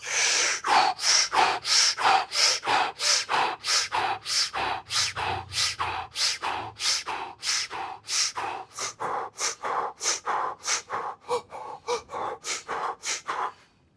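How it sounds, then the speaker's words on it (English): Rapid, forceful breathing during a Tai Chi-inspired exercise flow, a long run of loud, close inhales and exhales in a steady quick rhythm that stops abruptly near the end. "Bring in air, as much air as you can, and exhale as much air as you can."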